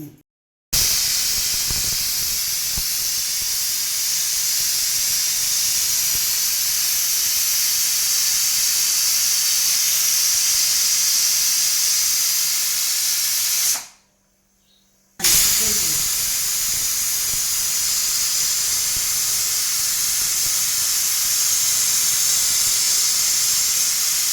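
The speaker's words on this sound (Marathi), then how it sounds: "आता मस्त कुकरला लावले शिट्ट्या करून घेऊ दोन तीन" A pressure cooker on a gas stove, cooking moong for a village-style dish, vents a loud, steady hiss of steam that runs almost without a break. It cuts out for about a second partway through and then hisses on as before.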